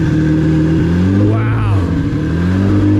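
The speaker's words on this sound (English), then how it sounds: "That sounds like a straight pipe, like, Skyline." A loud car with a straight-pipe exhaust revs up and down with a deep, raspy exhaust note, pitch sweeping in smooth rises and falls, close by.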